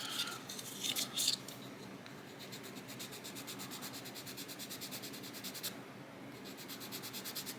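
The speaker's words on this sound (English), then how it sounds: "have to get that little rivet or screw detail sanded off." A small part of a 1/350 fiberglass-and-resin USS Missouri BB-63 ship model is sanded to remove rivet detail: quiet, close rapid rubbing strokes in steady rhythmic runs, after a few brief louder scrapes at the start.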